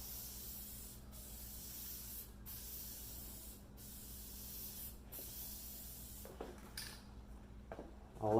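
Light spray bursts of sealant coat onto an alcohol ink painting on canvas, four short even hisses in a row followed by a few quicker sprays and handling noises, quiet and close.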